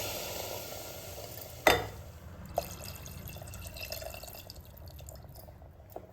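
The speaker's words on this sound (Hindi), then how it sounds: "तो अब इस स्टेज पर हम इसके अंदर पानी डाल देते हैं।" Water poured into a pot of frying rajma (kidney beans), a sharp splash and hiss at first followed by steady sizzling and bubbling, heard alone at moderate level.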